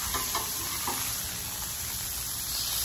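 Brisket searing on a Blackstone flat-top grill gives a steady, close sizzle that holds the whole time, with a few soft scrapes near the start.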